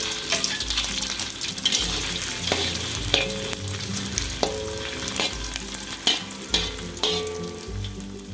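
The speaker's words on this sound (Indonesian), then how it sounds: "Nih biasanya saya goreng dulu untuk bakso dan sosisnya." Meatballs and sausages sizzle and crackle in hot oil for fried rice, a loud continuous frying hiss broken by clattering stirring strokes against the pan, with no talking.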